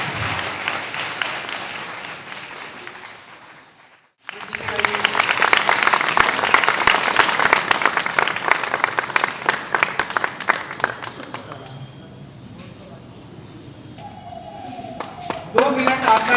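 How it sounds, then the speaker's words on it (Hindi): An audience gives strong applause after a stage performance about Birsa Munda. Someone speaks first, then dense, loud clapping from a large crowd builds and holds for several seconds before fading to scattered claps. "एक बार इस पूरी टीम के लिए 2 मिनट जोरदार तालियां चाहिए।"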